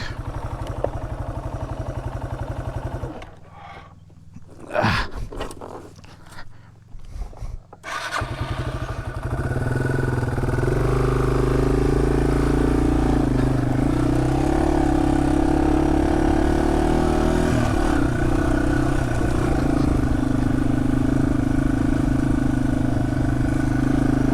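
Yamaha TW200 motorcycle on a forest trail: a steady, close single-cylinder engine drone that dips and sputters briefly, then settles into a sustained loud run as the bike rides on.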